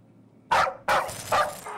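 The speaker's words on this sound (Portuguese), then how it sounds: "Ele late, só." A modded cat character in the video game Stray barks like a dog, three short sharp yaps in quick succession, close and clear with no talk over them.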